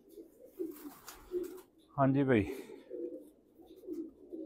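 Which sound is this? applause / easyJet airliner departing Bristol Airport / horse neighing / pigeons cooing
pigeons cooing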